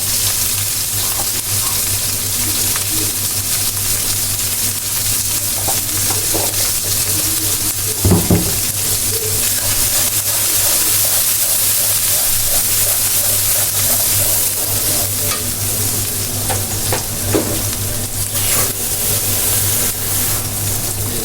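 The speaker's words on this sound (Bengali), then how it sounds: "আমি একটু ঝুল দিয়ে দেবো মশলাটা কষাবো" Spices with turmeric, cumin and chillies frying and being stirred in a pan for a Bangladeshi poa fish curry, a loud continuous sizzling hiss with occasional scraping knocks from stirring and a low steady hum beneath.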